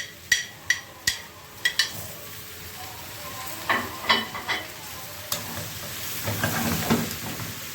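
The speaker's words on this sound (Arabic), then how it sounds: "نديها تقليبة سريعة." Tomatoes and spices being stirred in a sizzling pan with vegetables for a liver and gizzard tagine, sharp clattering spoon scrapes at the start, then steady frying hiss and a few more stirring knocks, no voices.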